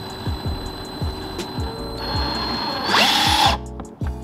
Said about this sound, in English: So we're gonna drill these in first on both sides.